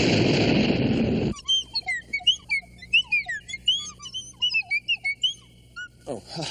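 Whistle sounds: a rapid series of short, chirpy, sliding high-pitched whistled notes of varying length, following a burst of loud broadband noise that cuts off abruptly.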